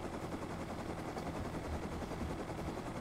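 Rapid, continuous bursts of automatic gunfire in the video game Rust, dense and steady throughout with no pauses.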